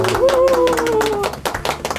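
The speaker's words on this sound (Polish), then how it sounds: "Brawa, brawa publiczność" An audience claps after a children's poem is recited, with a voice speaking over the start before a run of sharp, uneven claps takes over.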